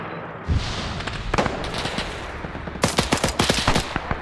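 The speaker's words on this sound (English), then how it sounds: "that Cromwell's just shooting at infantry" Cromwell tank in a WW2 video game firing at infantry, rapid bursts of sharp gunfire in loud clusters with a few heavier thumps, near and continuous, no voices.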